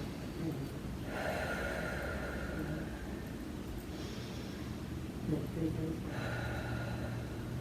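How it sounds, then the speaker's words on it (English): Slow deep breaths taken during a seated neck stretch with the head tilted to the side, two long airy inhale-exhale swells close to the mic over a steady low background hum. "Take 2 deep breaths here."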